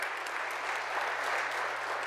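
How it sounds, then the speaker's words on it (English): A church congregation claps together in a dense, steady burst of applause that fills the short moment without a break. "I want the church to give a round of applause to the Lord"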